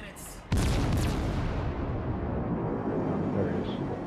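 Warship guns in the video game World of Warships: Legends fire a heavy booming salvo after a brief quieter moment, followed by a long rumbling roar that slowly fades.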